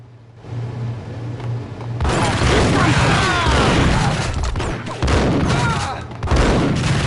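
Gunfire erupts in a Max Payne shootout, a low hum giving way after about two seconds to loud, rapid bursts of shots and crashing impacts that keep going, with a second heavy volley near the end.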